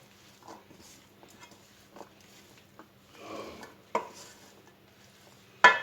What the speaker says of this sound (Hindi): ये सब चीज़ें डाल के इसे अच्छी तरह से मिक्स कर लूँगी।